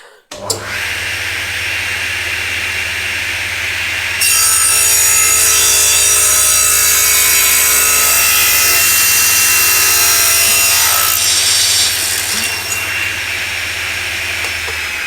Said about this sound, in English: this is how I actually did the cheek cuts using my sliding table